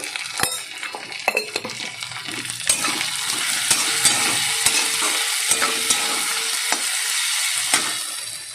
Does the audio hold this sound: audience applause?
no